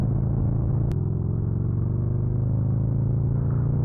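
A Harley Davidson Street Glide Special rumbles loud and close while overtaking, its deep steady engine drone holding evenly throughout with a single sharp click early on.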